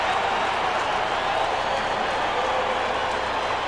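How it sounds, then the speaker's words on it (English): Roar of a huge football stadium crowd in Denver during a 2002 Raiders at Broncos game, a loud, steady wash of cheering and noise that holds at full volume throughout. "And then with the crowd in full throat"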